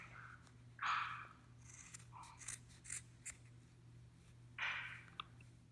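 Scissors snip through yarn loops for a sunglasses pouch, producing a few quiet, close cuts, two of them more distinct, with faint scraping between them against a low hum.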